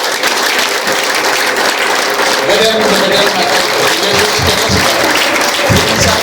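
A church congregation applauds together, a loud continuous roar of clapping hands filling the room while voices call out over it.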